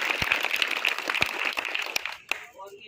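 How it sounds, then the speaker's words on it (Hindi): Students clap together at a higher secondary school ceremony in Harpalpur, Chhatarpur. The applause is dense and steady for about two seconds, then thins and fades out. "एक बार जोरदार ताली बजाइए।"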